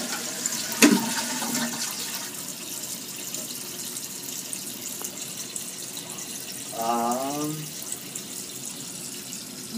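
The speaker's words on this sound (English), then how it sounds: "Flush the toilet." A household toilet just repaired flushes with a steady rushing wash of water that runs throughout, with a brief voice partway through.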